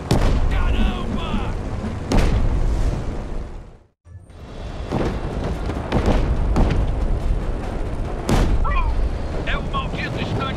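Gunfire and explosions in the video game Just Cause 3, with sharp shots and heavy booms repeating across a loud, busy mix and one short silent gap partway through.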